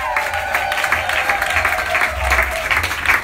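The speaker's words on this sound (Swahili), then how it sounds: "Makofi kwa ajili ya Yoshua." A church congregation claps during a New Year's Eve crossover service, giving dense, steady, loud applause that holds for the whole stretch.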